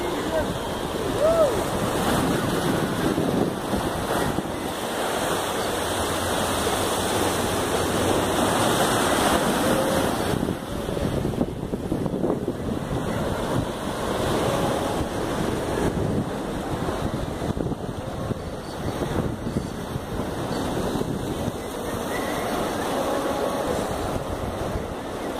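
Waves roll in on the beach at Praia de Cabeçudas in Itajaí, making a steady wash of surf heavily buffeted by wind noise on the microphone.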